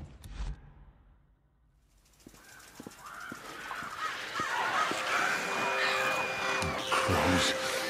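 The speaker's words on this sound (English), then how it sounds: "Crows. Damn it." Crows in the video game Days Gone caw and squawk as a rough, harsh chorus of game sound. It begins after a quiet start and grows louder and denser, with occasional voice-like sounds mixed in.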